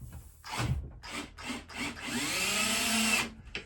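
Screws being driven into a wooden bench bracket of a HappiJac bed lift system, heard as close, sustained grinding bursts that rise in pitch as each screw seats, with brief pauses between runs and no talking.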